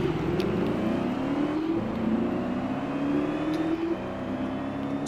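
A race car in the video game Gear.Club Unlimited 2 on PS5 accelerates hard, its engine note climbing steadily through the gears with a whirring drone, loud and continuous with no talking.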